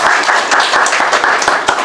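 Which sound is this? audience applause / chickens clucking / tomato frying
audience applause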